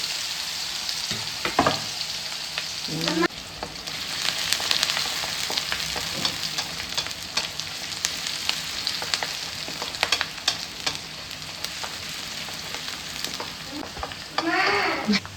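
Green chillies and onions fry in hot oil in an iron kadai, giving a dense, continuous sizzle close up with occasional stirring scrapes and a few faint voiced sounds.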